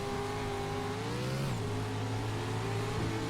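Car engine in a racing video game revving steadily, a sustained harmonic drone that climbs and shifts pitch around the midpoint, loud and continuous with no talk.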